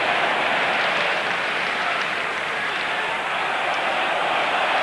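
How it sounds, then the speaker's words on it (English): A rugby stadium crowd at a 1999 Five Nations match between Ireland and France roars in a dense, steady wash of noise, loud and unbroken throughout, with no distinct voices standing out. "Crowd appealing for a knock-on"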